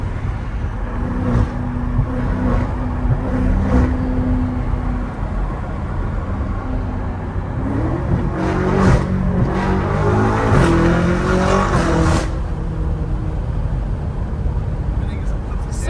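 Straight-piped BMW M5 exhaust burbling and revving loudly and close, with a rising rev sweep around the middle, while people talk over it.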